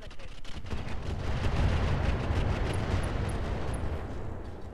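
A missile salvo fired in a Roguetech BattleTech mod battle: a dense, steady roar of rapid launches and blasts that holds at an even level throughout, with no talk over it.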